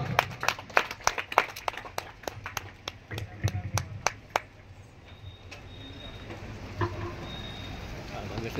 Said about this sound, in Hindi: करताली दे स्वागत करंतु।